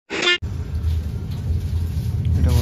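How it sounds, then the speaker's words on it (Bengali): A train pulls away with a steady, loud low rumble that fills the clip and swells slightly toward the end, heard after a brief voice at the very start, in a snowy mountain area near Bardonecchia, Italy. "এটা বন্ধুরা ট্রেন ছেড়ে দিয়েছে।"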